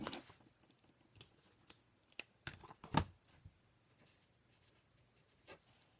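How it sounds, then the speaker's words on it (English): Pen writing on paper at a desk, a few short scratchy strokes in irregular bursts with a sharper tap or click near the middle, fairly faint and with no talking. "Let me write this down."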